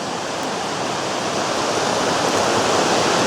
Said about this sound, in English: And we're at the creek.